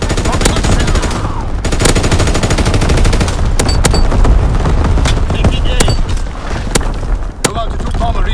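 Rapid machine-gun strafing fire from a fighter plane in Call of Duty WWII, loud dense bursts mixed with sharp single shots and booms, while a radio voice talks over the battle noise.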